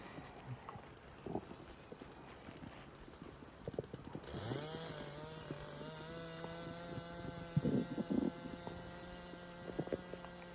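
A Stihl 881 chainsaw idles and then revs up into a steady, droning buzz, with a few sharp knocks along the way.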